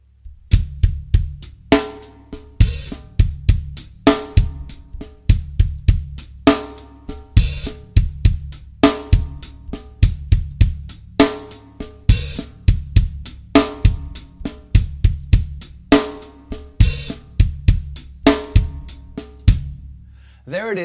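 Linear 16th-note drum groove played very slowly, a one-bar pattern of separate kick, snare and cymbal hits in a steady repeating flow, close and clear, with no talk.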